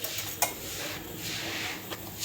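Ripe green chillies are coarsely crushed for spicy thecha, giving quiet, steady grinding and scraping with a few sharp clinks of utensil on vessel, close up.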